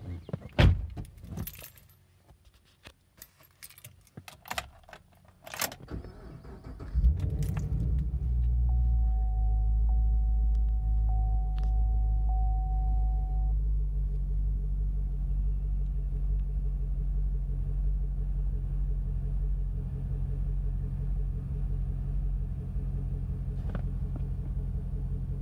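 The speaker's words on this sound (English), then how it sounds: "Now we're going to take a listen to the engine." Keys jangle and rattle briefly, then the V8 of a 2015 Chevrolet Camaro 2SS 1LE starts and settles into a deep, steady rumbling idle that runs on loudly and close.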